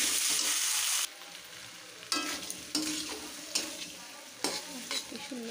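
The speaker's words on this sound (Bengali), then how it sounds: "এবার এটাকে ভালো করে কষিয়ে নিতে হবে।" Potatoes and peas fry and sizzle in a pan while being stirred for a potato curry, a steady hiss broken by repeated scraping stirs, close and fairly loud, with no talking.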